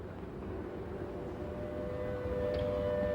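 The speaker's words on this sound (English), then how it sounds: "the air raid siren wails again" A distant World War II air raid siren holds a long, steady wail over a low rumbling background, growing slightly louder toward the end.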